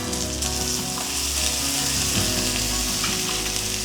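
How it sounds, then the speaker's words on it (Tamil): Steady, dense sizzling of shallots, green chillies and curry leaves sautéing in hot oil with mustard seeds, continuous and close throughout with no voices. "ரொம்ப வதங்கக்கூடாது, சும்மா 1-2 வதங்கினா போதும்."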